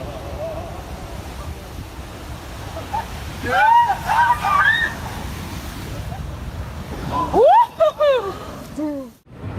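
An ocean rogue wave surges toward the shore, heard as a steady roar of wind and surf with rushing water building louder near the end, while excited voices shout and exclaim over it.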